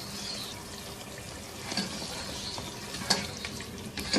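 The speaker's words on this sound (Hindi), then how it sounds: "इसको अच्छी तरह से मिक्स कर लेना है" Chicken curry seasoned with garam masala and crushed kasuri methi is stirred in a pan, giving a faint, soft sizzle with a few gentle scrapes and knocks near the end.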